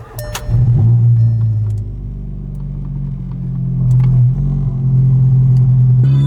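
A 500hp VW GTI engine cranks and fires up loud and close, settling into a deep idle rumble before rising as the car pulls away, with a faint jangle at the start.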